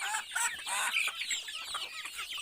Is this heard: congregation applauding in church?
no